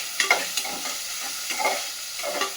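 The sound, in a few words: frying onions in a pan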